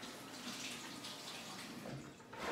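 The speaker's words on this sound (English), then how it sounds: "So I am going to rinse off my hands real quick." Running water from a tap splashes over hands being rinsed, a steady close hiss of flowing water that swells slightly at the end, with no talk.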